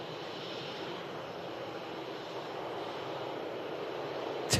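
KLM airliner taxiing out at Manchester Airport toward the departure runway, a steady broadband engine roar held at moderate level throughout, with no voices.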